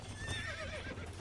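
A horse in the Western video game Red Dead Redemption whinnies with a wavering, high neigh over steady hoof clip-clop and low background rumble, all close and continuous for about a second.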